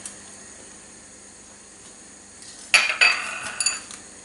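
Two eggs beaten in a bowl with a utensil for a skillet apple cake: after a quiet start, a burst of quick clinking taps and scrapes against the bowl, close and fairly loud, with no talking.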